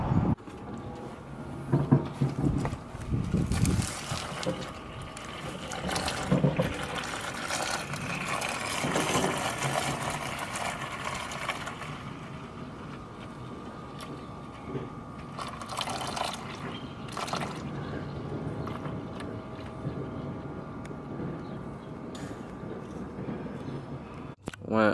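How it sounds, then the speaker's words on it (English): Coolant drains from a Nissan 240SX car radiator, a continuous liquid pour and trickle with occasional drips, fairly close and steady, with a brief voice and some clatter near the start. "obviously drain your radiator fluid"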